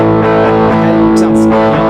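A short burst of electric guitar riff through a fuzz effect, thick and sustained with gritty harmonics, loud and close, ending with a couple of brief scratchy accents.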